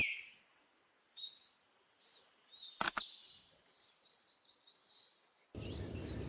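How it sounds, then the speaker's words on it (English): Birds call from oak trees in short, scattered chirps and twittering phrases, faint and somewhat distant, with a sharp knock near the middle and rushing wind or handling noise at the end. "the oaks, lots of birds."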